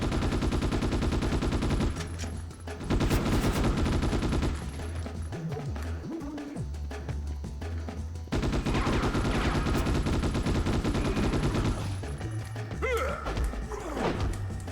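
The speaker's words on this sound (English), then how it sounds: "he's got a grenade launcher" Gunfire rattles from a grenade launcher and automatic weapons in the PS2 game Ghost in the Shell, continuous loud bursts over game music, with a voice speaking briefly.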